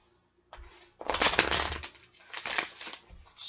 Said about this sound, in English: shuffle these good